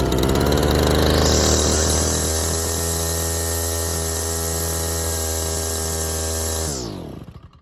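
A small engine runs on choke, loud and close, revving high with a buzzing whine before settling to a steady, rough idle. It then cuts out and winds down to silence.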